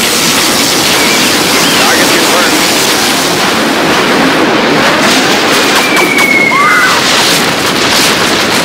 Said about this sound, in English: Scud storm launched.